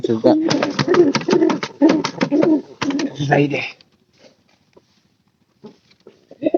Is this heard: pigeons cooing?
yes